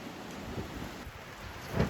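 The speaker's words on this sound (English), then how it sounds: "We're getting hailstorm, pouring rain." Pouring rain and hail drumming on the roof of an off-grid cabin, a dense steady hiss with scattered heavier thuds, fairly faint and continuous, with no voices.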